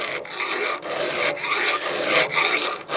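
A hand file rasps across chainsaw teeth in short, even back-and-forth strokes, about five close, loud scraping passes separated by brief pauses.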